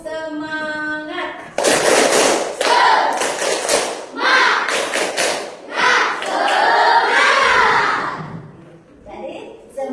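A classroom of schoolchildren performs a 'tepuk semangat' clapping routine, bursts of rapid group claps in rhythmic patterns mixed with chanting voices, close and loud, after a short sung lead-in.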